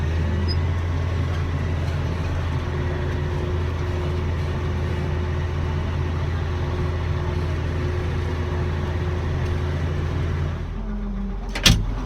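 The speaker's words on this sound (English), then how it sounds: "Out driving grain cart all day, chasing 3 combines." Steady low engine drone from a farm vehicle pulling a grain cart in a field during harvest, a constant rumble from inside the cab that ends with a brief click and thump.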